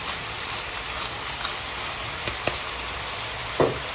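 Frozen milkfish (bangus) sautéing in a pan for sinigang sa kamias, a steady broadband sizzle with a few faint pops and one louder spit near the end, no talking.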